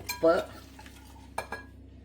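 A spoon stirs ginger, garlic and green chili in a pan for a samosa filling, giving a few quick scraping strokes with soft clinks, close and fairly quiet over a low hum.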